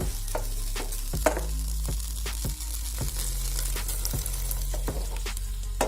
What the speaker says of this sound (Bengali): সিদ্ধ করে রাখা এঁচড় দিয়ে দিচ্ছি, সামান্য জল